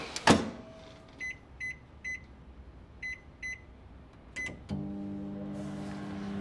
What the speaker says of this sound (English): I'm going to do is stroll over to the microwave and melt them